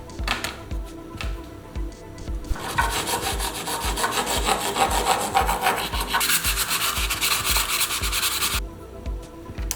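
Enlarging a rubber plug hole on a Yamaha Ténéré 700 motorcycle, a close, continuous rasping and scraping of a rotary tool or file that grows denser midway, then cuts off abruptly near the end.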